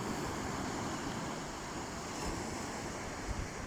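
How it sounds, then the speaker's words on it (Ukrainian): A fast-flowing river pours into the Mediterranean Sea on a Spanish coast, producing a faint, steady wash of rushing water, with some wind noise and no talking. "Такий поток нормальний. Швидко тече."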